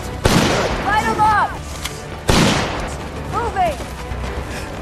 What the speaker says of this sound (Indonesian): Kemudian Sam pun segera mendekati Joey dan menyuruhnya untuk menembak salah satu pasukan Zalam agar Sam bisa merampas senjatanya.